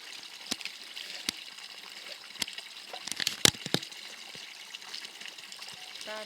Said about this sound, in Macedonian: ние сме ја пуштили доли на цревото да се чисти